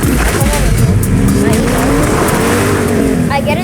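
Truck driving in a video game: a steady, loud engine drone with tire noise and occasional squeals, continuous throughout with a voice talking over it.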